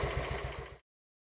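Panther motorcycle single-cylinder engine idling after a cold-weather start, a faint, even, regular low thumping pulse for under a second before cutting to silence.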